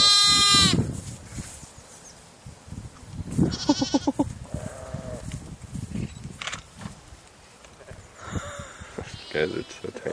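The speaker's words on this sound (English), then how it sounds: "saw this field of sheep" Several sheep bleat at close range in a field near Leominster, England, some high-pitched and wavering like lambs, with soft rustling and shuffling between the calls.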